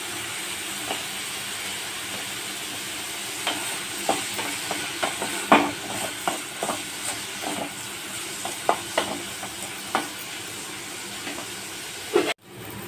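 Green beans stir-fry with turmeric and salt in a pan, giving a constant close sizzling hiss broken by scattered light scraping and tapping as they are stirred, ending in a sharp knock.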